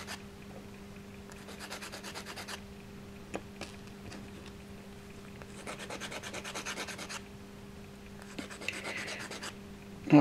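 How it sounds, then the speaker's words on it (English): A sanding block rubs back and forth on wood in three separate bursts of quick, rhythmic scratching over a faint steady hum. "What I'm doing now is just flatten off the ends with a sanding block."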